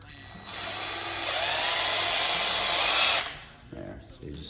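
A power drill drives screws into the plastic frame of an emergency light fixture, whining steadily and loudly for about three seconds before stopping, followed by faint handling noises.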